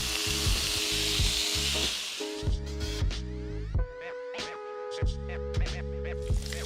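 Bacon strips frying in a pan, a loud continuous sizzle and crackle up close, with tonal hum and a few knocks and pops of handling over the top.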